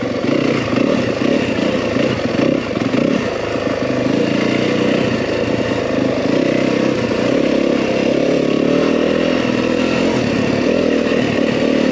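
Yamaha WR250F dirt bike ridden along rocky single track near Flagstaff, its engine droning loud and steady throughout with small surges as the rider works over rough ground.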